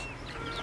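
A hen on a goat farm gives a brief, soft run of clucks, close by and alone, with no speech.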